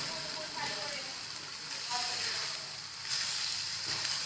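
Aloo methi, potato and fenugreek leaves, cooking uncovered in a pan, with a steady hissing sizzle that holds throughout at moderate volume and a few faint clinks.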